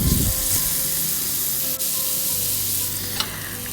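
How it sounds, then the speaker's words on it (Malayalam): Chicken for Pakistani karahi sizzles and fries in oil in a pan, a steady close crackling hiss with a brief stir or scrape near the end, with no voices. "പിന്നെ ഇത് നമുക്ക് കുറച്ച് ഓയിൽ ഒഴിച്ചിട്ട് നമുക്കിത് ഫ്രൈ ചെയ്തെടുക്കാം."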